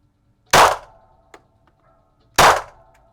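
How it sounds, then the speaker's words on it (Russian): Two sharp, loud shots from a Sig Sauer P226T TK-Pro traumatic pistol firing Fortuna cartridges at a 10-metre range, spaced about two seconds apart, with a faint metallic click between them and no voices. "Заряжаю 3 патрона фортуны в ЗИГ. Стреляю также на 10 метров."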